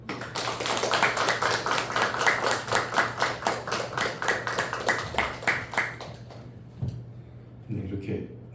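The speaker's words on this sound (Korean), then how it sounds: "격려의 박수." A church congregation claps together in encouragement, a dense run of hand claps for about six seconds that then tapers off, with a low steady hum underneath and a few faint voices near the end.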